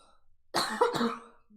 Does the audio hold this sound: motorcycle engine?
no